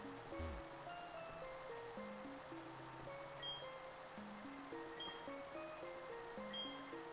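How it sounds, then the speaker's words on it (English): Pokemon HeartGold cave background music, a steady looping melody of stepped synth tones over a low ambient bed, moderately quiet and continuous with no talk. "Cave music."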